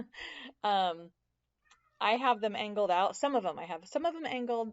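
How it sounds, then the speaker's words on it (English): A pet cat meows in the background, with brief tonal cries early on, while someone speaks steadily and close over it. "that's my cat in the background."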